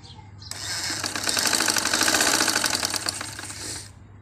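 A sewing machine stitching suit fabric runs in a steady, fast mechanical chatter that starts after a brief pause, builds to a loud, even whir and stops abruptly near the end.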